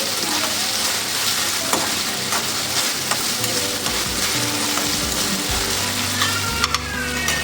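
Cauliflower and potato pieces sautéing in a hot pan for a dry vegetable dish, a loud continuous sizzle with frequent stirring scrapes and clatter close by, no talk.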